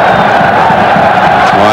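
Football stadium crowd at a 1997 World Cup qualifier between the Netherlands and Belgium at De Kuip, Rotterdam, chanting a player's name as a loud, dense, continuous roar of many voices.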